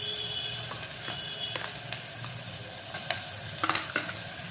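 Garlic paste and chopped onion fry in a pan, a steady sizzle broken by scraping stirs and a few sharp spatters and clicks toward the end, close and moderately loud, with no voices.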